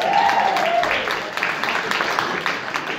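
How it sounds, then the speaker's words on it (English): Crowd at a Viva Blackpool 2017 showcase cheering and applauding the host, a dense roar of clapping and voices with a brief whistle at the start, loud and steady throughout. "Give him a big cheer"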